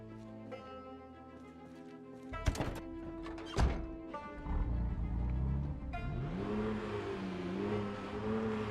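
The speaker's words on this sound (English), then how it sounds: "We're just going to scoot our car up a little ways." A car in the zombie survival game Project Zomboid gives a couple of heavy thunks, then its engine starts and revs with a steady rising hum as it drives off, fairly loud, with no talking.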